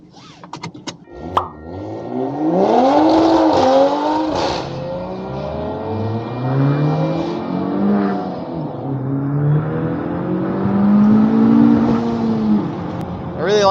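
Honda Civic Type R engine pulling and revving through gears on a test drive, heard from inside the cabin, with rising and falling tones and light clicks near the start.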